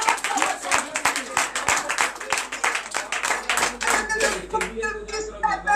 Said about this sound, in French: Donnez l'acclamation à Jésus.